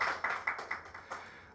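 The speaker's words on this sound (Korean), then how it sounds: "박수 한번 부탁드리겠습니다" Scattered applause from a small audience after a lecture on social-economy village jobs, a handful of distinct claps in uneven bursts, fairly faint and thinning out over a moment.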